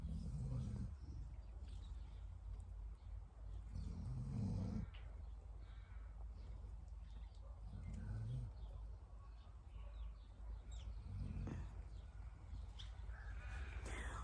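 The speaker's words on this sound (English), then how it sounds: "there's a snoring in the background" A person snores faintly in the background, the low rumbling breaths coming in slow, regular bursts about every three to four seconds over a quiet indoor hum.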